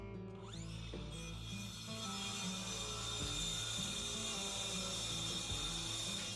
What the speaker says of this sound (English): let's see if we can cut it with this old Craftsman battery saw